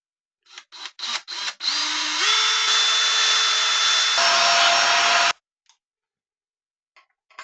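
A power drill bores a screw hole into a hybrid Telecaster-style guitar body: a few short trigger bursts, then one loud sustained whine lasting about four seconds that drops pitch as it bites before cutting off.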